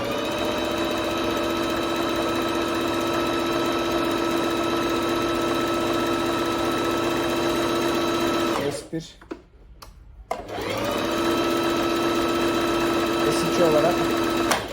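A Bernette B05 sewing and embroidery machine stitches with a steady, close whirring hum that stops briefly and then resumes, while a voice talks over it.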